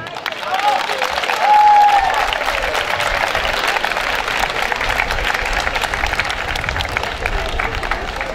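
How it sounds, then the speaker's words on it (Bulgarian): Warm applause from an audience for the participants at the opening of a horo folk dance gathering by a spring, a dense steady crowd noise with a voice over it, lasting throughout. "скъпи участници, моля за топлите ви аплодисменти"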